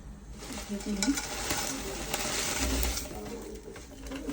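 A spoonful of ghee sizzles in a heated pan, a soft steady frying hiss with faint clinks and scraping, heard close and fairly quiet without speech.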